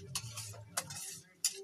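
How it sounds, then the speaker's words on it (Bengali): Utensil stirring food in a pan during morning home cooking, three or four quick scraping clinks close by over a faint low sizzle, no talking. "দেখো আমি রান্না করছি"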